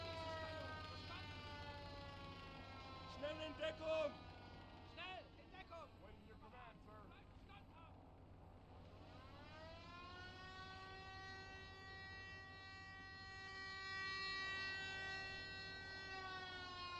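Wailing alarm siren in the World War II video game Gates of Hell, rising and holding a steady drawn-out tone, loud and sustained, with someone talking over the start.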